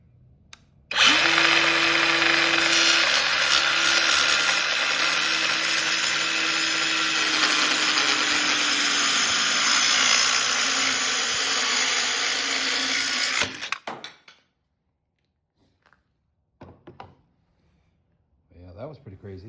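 A Dremel saw station cuts wood along its edge guide, giving a loud, steady high-pitched whine that runs for about twelve seconds before stopping abruptly, followed by a few faint clunks and handling noises.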